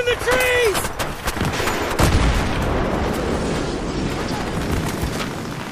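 Gunfire crackles through a Battlefield 3 firefight, with repeated sharp shots and a heavier boom near the middle amid constant battle noise, while a voice shouts briefly at the start.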